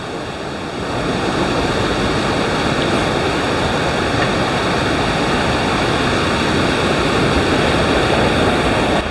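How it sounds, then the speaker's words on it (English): A creek beside a hiking trail in British Columbia rushes steadily, a dense, loud, unbroken roar of flowing water close by, rising to full strength after the first second. "Looks like a creek."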